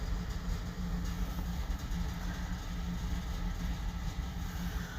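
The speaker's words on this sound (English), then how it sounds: "The noise you can hear in the background is my furnace." A household furnace runs continuously in the background, making a steady, low, even rumble with no breaks or changes across the whole stretch.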